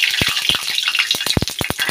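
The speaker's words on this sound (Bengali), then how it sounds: "কপিটা এখন ভেজে নেব।" Cauliflower frying in a pan of oil with cumin, green chilli, tomato and turmeric crackles close up, with irregular sharp spattering pops over a continuous hiss.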